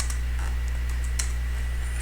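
Sparse keyboard clicks, a few light key taps scattered over a steady low electrical hum, close and fairly quiet.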